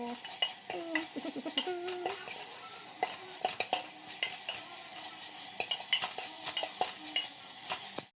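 Dry silver fish curry stirred in a pan, with rapid repeated scraping and clinking strokes of a utensil against the pan over a light sizzle, close and steady, with no talk.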